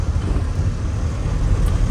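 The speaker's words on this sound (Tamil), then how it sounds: "பிகாஸ் இது அசோக் லேலண்டோட ட்ராக்கு. ஸோ அதில் தான் நாங்கள் வந்து ஓட்டிகிட்டு இருக்கோம்." An Ashok Leyland mini truck drives along a road, its engine a steady low rumble with continuous road and wind noise, close and fairly loud throughout.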